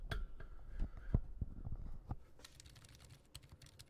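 Fingers tap across computer keyboard keycaps, a few slower distinct clacks giving way to a rapid flurry of light typing, close but fairly soft.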